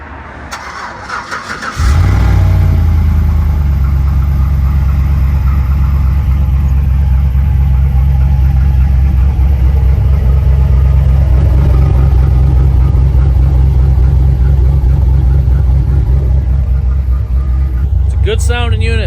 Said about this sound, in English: We're going to do a little cold start on it right now